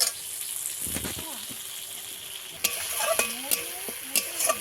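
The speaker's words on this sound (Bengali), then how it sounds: "অল্প একটু জল দেবো দিয়ে মশলাটা কষিয়ে নেব" Spice paste stir-fried with a splash of water for a village Bengali khalse fish recipe, a steady hiss of frying with scraping stirs that grow more frequent toward the end, a voice faintly audible underneath.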